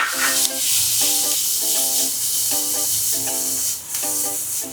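Onions sizzling in butter in a pan for sea bass, a loud steady hiss running throughout beneath a repeating tonal beeping pattern.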